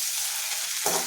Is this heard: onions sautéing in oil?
yes